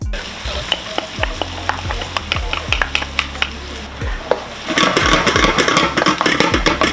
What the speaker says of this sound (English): At this stage I'm going to go in with the garlic.